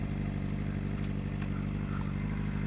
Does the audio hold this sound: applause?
no